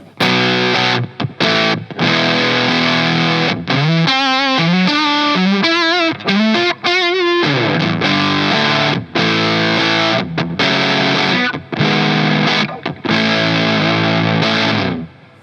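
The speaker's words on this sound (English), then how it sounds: "So here's the fuzz face." An electric guitar through a Fuzz Face pedal plays a fuzzy, heavily distorted riff with chugging chords and a bending lead phrase in the middle, loud and alone, with short gaps between phrases.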